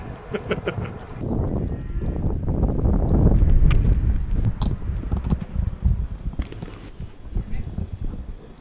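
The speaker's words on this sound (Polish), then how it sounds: "Ale wieje" Strong outdoor wind buffets a microphone with deep, uneven rumbling gusts that swell toward the middle and ease off, continuous and close throughout.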